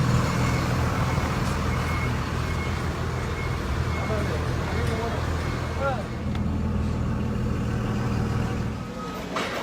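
Trucks idle and rumble at a town market where agricultural produce is loaded, with a steady engine drone, distant traffic and faint intermittent beeps, while people talk nearby.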